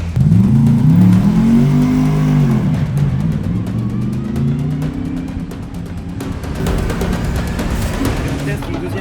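A Porsche GT3 race car on Dunlop tyres howls around the Nordschleife, its engine loud and close, pitch climbing and dropping through shifts as it accelerates hard.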